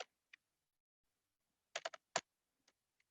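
Typing on a computer keyboard: scattered soft key clicks, a tight cluster of several quick presses and a few isolated taps, close and quiet with silence between.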